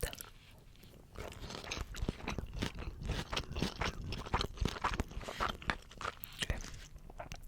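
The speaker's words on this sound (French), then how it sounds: "Je trouve que la salade ça fait un super son" Someone chews crunchy salad from a poke bowl up close, producing repeated sharp crisp crunches in an irregular chewing rhythm, quiet overall.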